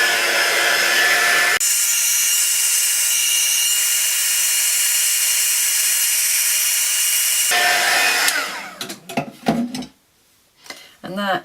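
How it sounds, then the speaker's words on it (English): A heat tool blows hot air in a loud, steady roar while heat-setting embossing powder, the whooshing running unbroken for several seconds before cutting off, followed by brief clatter and handling noises. "And I'll heat set this one again."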